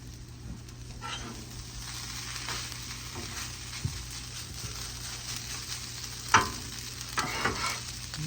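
Fried rice with onions sizzling in a pan, a quiet steady fry with scraping stirs and a few sharper clinks of the utensil against the pan.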